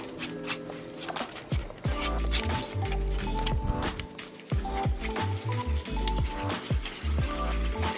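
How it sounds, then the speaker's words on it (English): Thick homemade lip gloss stirred in a container, with wet squishy scrapes and sticky smacks in an uneven rhythm, close and fairly loud. "make sure you stir it all in you get all the lip gloss worked in"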